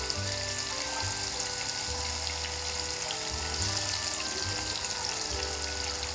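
Fish pieces frying in a pan of hot oil for an Indian fish fry, a steady dense sizzle with a faint watery crackle, close and continuous, with no talking.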